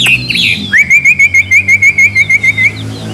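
A laughingthrush (khướu) gives a wild song, opening with a few varied whistles and then repeating a clear, loud, rhythmic note about a dozen times in quick succession, close and alone.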